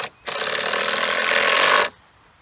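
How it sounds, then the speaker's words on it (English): Power drill driving screws into wooden vertical support pieces for a pig shelter, one loud, close whirring burst of about a second and a half between short quiet gaps. "we are screwing these support pieces, the vertical pieces,"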